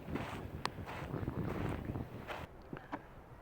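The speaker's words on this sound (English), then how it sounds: "Yep, it's pretty breezy this morning." Steady breezy wind buffets the microphone outdoors near Old Faithful on a cold morning around 40 degrees, a continuous rushing roar with gusty swells that eases after a couple of seconds.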